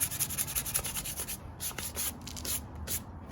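Hand sanding of a plaster surface with 220 grit sandpaper, a steady run of close, raspy back-and-forth rubbing strokes with no talking.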